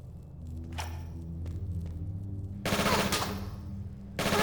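Gunfire from weapons loaded with poison ammo in the Tomb Raider IV video game: a burst of loud rapid shots that stops, then resumes near the end, over a steady low game rumble.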